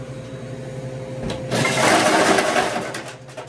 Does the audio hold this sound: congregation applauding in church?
no